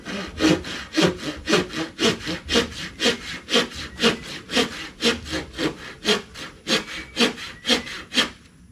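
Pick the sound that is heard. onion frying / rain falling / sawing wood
sawing wood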